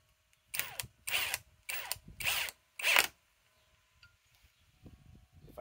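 A Harbor Freight Hercules cordless drill runs at top speed in five short, loud bursts of whirring, each about half a second long, followed by quiet handling noises.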